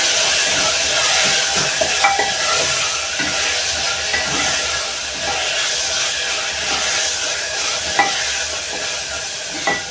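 Mixed spices and paprika being stirred into liver frying in a pan, a steady close sizzle and hiss with soft scraping strokes throughout.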